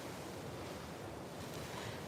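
Ocean waves wash onto a beach in the Marshall Islands, a steady, dense rush of surf with wind noise buffeting the microphone and no voices.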